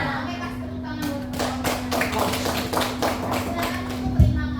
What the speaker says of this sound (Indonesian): Oke, kasih tepuk tangan buat